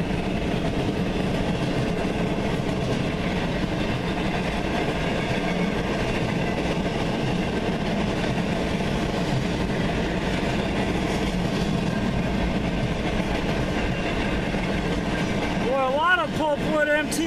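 A long, steady rumble of a CN freight train, locomotive 5414, rolling past nearby at Ladysmith, with continuous wheel and car noise and a brief squeal near the end.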